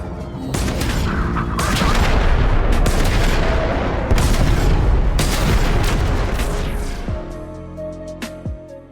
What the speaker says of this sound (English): A cruise ship has arrived. They are powering weapons.